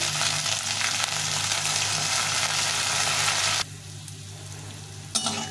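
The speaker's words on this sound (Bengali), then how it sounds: "চালটাকে একটু ভেজে নেব" Gobindobhog rice and potatoes fry together in a pan with a loud, dense, continuous sizzle that drops away sharply partway through, then returns with a brief stirring scrape.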